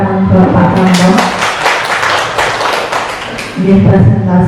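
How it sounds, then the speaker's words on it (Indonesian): A room full of people claps for a presentation, steady dense applause throughout, with a voice talking over it at the start and end. "tepuk tangan buat Pak Rambo"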